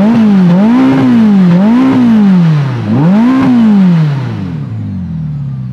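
Ferrari SF90 hybrid supercar engine revving hard in repeated rising and falling sweeps, loud and close, then dropping to an idle rumble at the end, with no talk over it.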